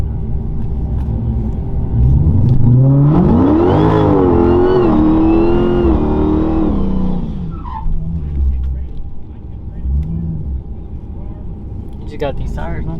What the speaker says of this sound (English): I heard twin turbos.